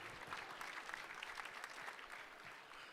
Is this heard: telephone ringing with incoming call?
no